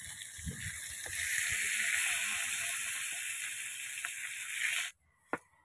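Hot oil sizzles loudly in a wok with steady hissing and occasional crackles, then cuts off abruptly near the end, followed by a single sharp knock.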